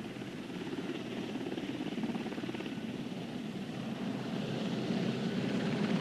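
A steady, rapid rotor thump of Sea King and Wessex military helicopters during the Falklands conflict drones on continuously at a distance, rising slightly in loudness toward the end.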